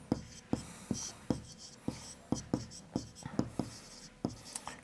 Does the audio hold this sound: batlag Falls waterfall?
no